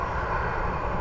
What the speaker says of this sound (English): And this Condor's about to take off.